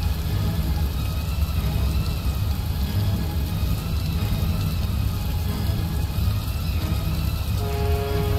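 A steady, low boat engine rumble in the rainy video game Heavy Rain, droning continuously and evenly at a moderate level with no voices over it.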